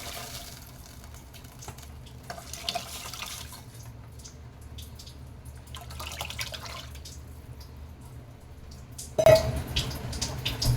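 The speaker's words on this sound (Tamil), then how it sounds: "இந்த மாதிரி லைட்டாக வதக்கி விட்டுட்டு நம்ம கரைச்சி வச்சிருக்கிற ரசத்தண்ணியை சேர்த்துடலாங்க." Tomato rasam liquid pours steadily into a pan of lightly sautéed ingredients with a soft trickling, splashing sound, growing louder and more vigorous near the end.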